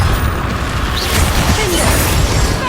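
Bombarda and Confringo spells erupt in Hogwarts Legacy as a dense, continuous wash of loud blasts and rumbling debris, with a brief whooshing sweep threaded through the steady roar.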